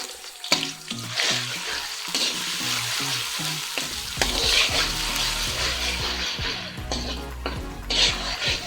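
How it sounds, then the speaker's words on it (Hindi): Ginger garlic paste sizzles and fries in hot ghee over low heat, with a spoon stirring and scraping the pan now and then, close up and steady. "लहसुन अदरक की थोड़ी सी खुशबू आने तक इसे पकाएंगे"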